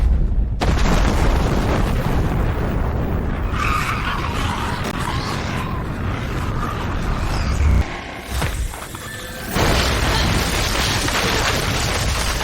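A heavy movie-effect bomb blast after an aircraft weapon release, a loud continuous roaring rumble that fills the scene, briefly dropping away before surging back at full strength.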